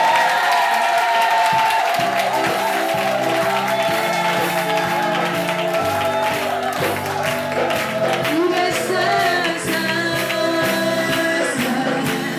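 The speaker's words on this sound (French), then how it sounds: "Est-ce que tu peux offrir des acclamations en poussant des cris de joie?" A church congregation at an evening worship vigil cheers, claps and shouts with joy. The roar is loud and sustained over strong rhythmic music with bass and keyboard lines, and scattered whoops rise above the crowd throughout.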